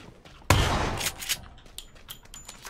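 A single loud shotgun blast in PlayerUnknown's Battlegrounds, fired near a grate, followed by a decaying tail and a few fainter clicks and thuds.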